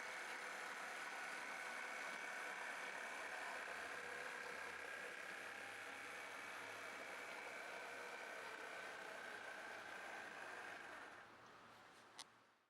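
A model railway locomotive idles in the yard during shunting, giving a steady, even mechanical hum with faint whirring that holds constant before cutting off near the end with a small click.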